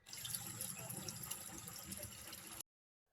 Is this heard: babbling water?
yes